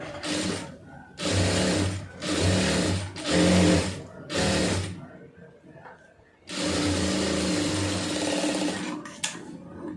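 A tailoring sewing machine stitches the lining of a puff sleeve in bursts, loud close whirring runs of a few seconds each separated by short pauses, then one longer continuous run at the end.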